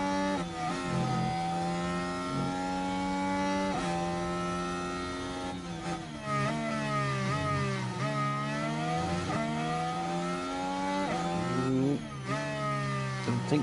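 Formula 1 car engines in the F1 Manager 23 racing game at the Hungaroring wail continuously at high revs, pitch sweeping up and down through gear changes as several cars pass, loud and steady throughout.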